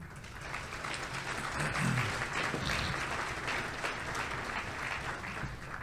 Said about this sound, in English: How about a hand of applause for Jimmy,